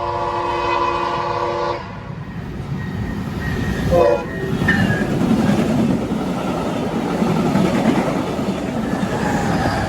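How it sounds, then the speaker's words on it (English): Via Rail train 22, a Siemens Charger locomotive set, passes at speed through Laurier station: a horn sounds briefly at the start, then a loud, close, sustained rushing roar of rail cars continues to the end. "It's a Siemens charger set."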